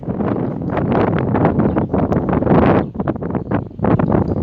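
Strong gusts buffet the microphone at Gdynia Chylonia railway station, producing loud, uneven rumbling bursts that rise and fall over a few seconds.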